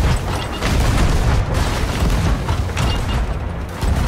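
Booming ship cannon shots ring out in Sea of Thieves during target practice on an empty ship, a steady run of loud, heavy blasts with almost no gaps over a few seconds.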